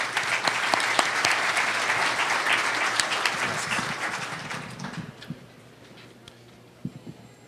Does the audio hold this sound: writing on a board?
no